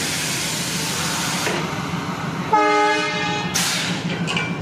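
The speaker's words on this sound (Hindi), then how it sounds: "सिंगुरेली का इंजन है ये।" A loud train rumbles close by, then a WDS6 diesel locomotive horn blares a sustained multi-tone blast over the engine noise, at Singrauli, India.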